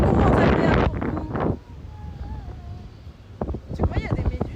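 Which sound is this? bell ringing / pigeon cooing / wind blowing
wind blowing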